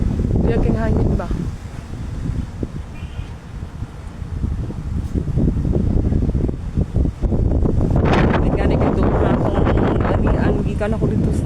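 Gusty wind buffets the microphone in heavy, rumbling bursts, loud and close, with a voice talking underneath.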